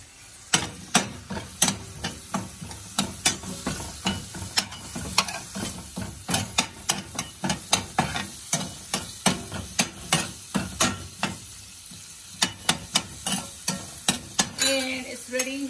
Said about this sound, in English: So I need to heat it up a little bit up there, and then I'm gonna stir it.